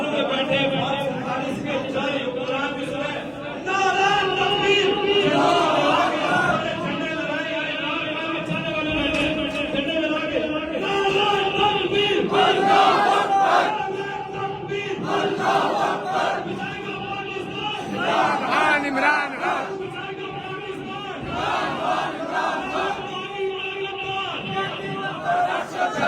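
A crowd of young men at a rally in Islamabad chants slogans in loud rhythmic unison, answering a lead voice in repeated call-and-response bursts that rise and fall over about half a minute.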